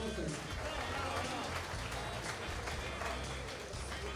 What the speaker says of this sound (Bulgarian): Искам обаче вашите аплодисменти за Иван Николов